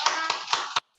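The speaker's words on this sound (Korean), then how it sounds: "박수 한번." Children at a Sunday school service clap in brief applause, a dense close burst of overlapping hand claps that cuts off abruptly after under a second.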